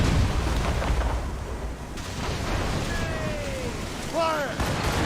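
Naval cannon volley in the Assassin's Creed Rogue game: broad, sustained booming blasts and rumble run throughout, with shouted voices and whistling tones over the gunfire.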